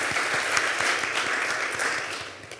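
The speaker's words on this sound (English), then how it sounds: "let's give them a round of applause, please" Audience applause for students at a youth entrepreneurship challenge, loud, close and steady clapping throughout that tapers slightly at the end.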